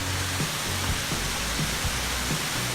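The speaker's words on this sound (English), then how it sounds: "we are up at the top of Fish Creek Falls, and that is the very top of the falls right there." Fish Creek Falls rushes in a steady, dense roar from the top of the falls in icy conditions, close and loud with no pauses or talking.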